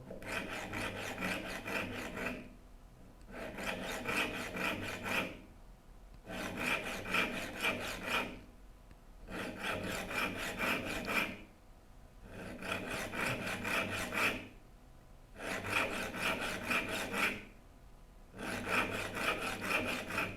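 A metal file rasps across the teeth of a dovetail saw in steady strokes, each lasting about two seconds with short pauses between, close and fairly loud with no talking.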